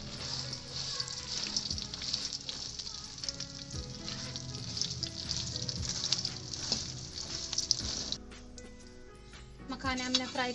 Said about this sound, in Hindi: अब हम इसमें मखाने फ्राई करेंगे।